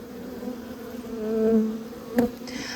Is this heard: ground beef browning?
no